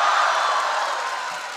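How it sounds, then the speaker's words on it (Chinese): Audience applause at a Chinese crosstalk comedy stage show: a dense, steady wash of clapping filling the room, continuous and fairly loud, easing off slightly toward the end. "真有鼓掌的"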